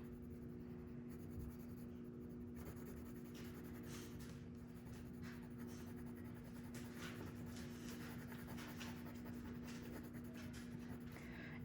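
Colored pencil scratching steadily across paper as a dinosaur drawing's head is colored in around its spots, a continuous close, quiet rubbing with small stroke variations and a faint steady hum underneath.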